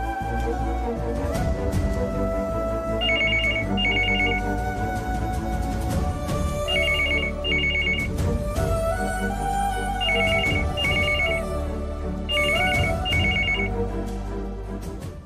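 A landline telephone rings loudly in a domestic drama scene, its electronic ringtone repeating in regular bursts over a steady background music bed for about fifteen seconds, with no talking.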